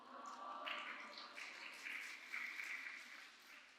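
Applause at a Friday late-night prayer meeting in a church, fairly faint and distant, with a few swells across the room.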